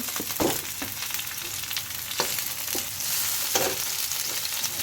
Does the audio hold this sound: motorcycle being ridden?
no